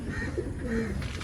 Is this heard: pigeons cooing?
yes